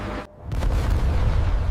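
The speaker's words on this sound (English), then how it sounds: "Explosions break apart solid rock to expose the gold-bearing layers." A loud rock-blasting explosion at an Iranian gold mine booms in after a short dip, followed by a continuous heavy rumble that fills the rest of the moment.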